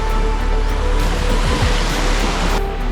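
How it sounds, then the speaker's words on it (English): Surf at White Beach on Boracay in the Philippines rolls in as a loud, steady wash of broadband noise, constant throughout with no clear break between waves. "I'm on the white beach, of course, of Boracay."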